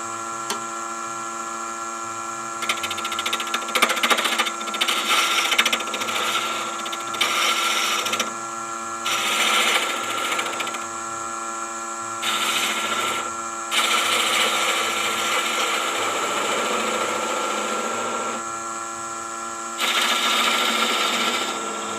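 Wood lathe spinning at 850 RPM while a coffee scoop is turned, a steady motor hum broken by repeated bursts of tool cutting against the spinning wood.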